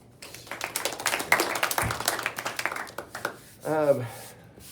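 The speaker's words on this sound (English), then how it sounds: "This is where you clap." A small group claps in scattered, uneven bursts at a slab-making demonstration, the claps fading out before a voice speaks briefly near the end.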